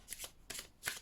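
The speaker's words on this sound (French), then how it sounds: "Je vais quand même essayer de tirer une autre carte pour voir si ça veut nous dire quelque chose" Oracle cards being shuffled and drawn by hand: a few quick, crisp riffling bursts, close and fairly soft, with short gaps between them.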